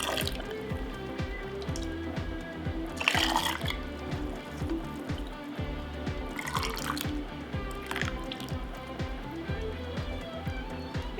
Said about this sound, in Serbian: I sada u tegle sipamo sok od paradajza.